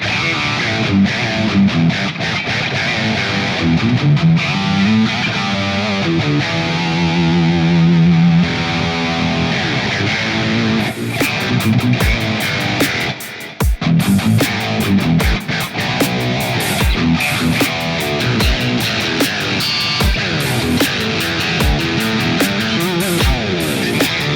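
A heavily distorted electric guitar through a PolyChrome DSP McRocklin Suite amp plugin, with drive, gate and extra bass, plays loud chugging riffs and sustained chords, with a brief pause midway before hard palm-muted strumming resumes.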